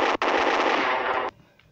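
Automatic gunfire in the Special Ops mobile game, a sustained loud burst of rapid shots with a brief break near the start, cutting off abruptly into quiet.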